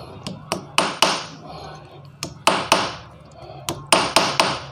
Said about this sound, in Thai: เจาะเสร็จเรียบร้อยผมใส่พุกเลยนี่ก็ใส่พุกนะครับผม